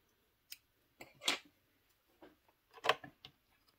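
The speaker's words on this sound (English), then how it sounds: "Cut the yarn." Scissors snip through knitting yarn beside a circular knitting machine: a handful of quiet, crisp metallic clicks and snips, close up in an otherwise silent room.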